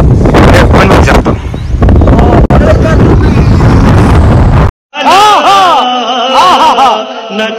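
Strong wind buffets the microphone outdoors in a village, a loud roaring rumble that lasts about five seconds before a brief drop and a switch to music.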